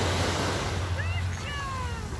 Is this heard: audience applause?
no